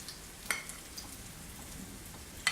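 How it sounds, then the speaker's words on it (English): Pea and ricotta fritters frying in a pan make a faint, steady sizzle with a few soft pops and crackles, quiet and close, with no one talking. "Just fry them up like that."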